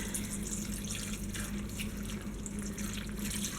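Water pours steadily into a slow cooker of ham and bean soup, a continuous rushing splash close by that holds the same level without pause throughout.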